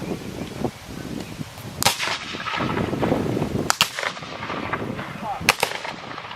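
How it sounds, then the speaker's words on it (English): Civil War reenactment infantry portraying the 44th Indiana fire muskets by file at the 155th Battle of Corinth anniversary, several sharp reports spaced down the line over an outdoor crowd murmur. "You just saw firing by file, starting at the right end of the rank and moving all the way down the line."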